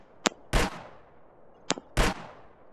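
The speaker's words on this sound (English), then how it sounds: "This is the difference when you shoot a wall." Two sharp gunshots in a first-person shooter video game, each a crisp crack followed by a loud bullet impact on a wall with a short decaying tail, about a second and a half apart, without talk.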